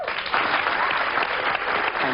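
Children in an audience clap together, a steady dense patter of applause that carries on without pause, with some crowd murmur mixed in.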